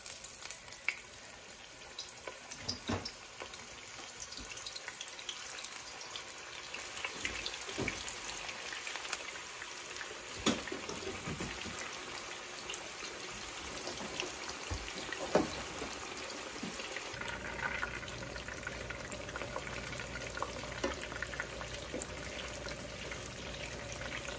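Chapli kebabs fry in hot oil in a pan over medium-high heat, a continuous soft sizzle with occasional crackles and pops, steady and fairly faint throughout, no speech.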